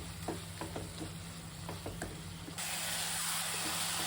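Homemade chili and coriander powder fry in oil for tomato rasam. A few soft stirring clicks come first, then the sizzle swells into a steady, bright hiss close by.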